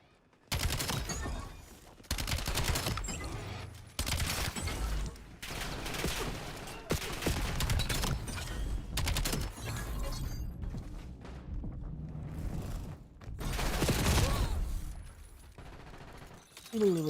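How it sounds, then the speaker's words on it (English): Rapid bursts of SMG gunfire in a video game, loud and dense, fired in repeated volleys that grow quicker, with clattering impacts between bursts. "I start, like, kind of shooting faster."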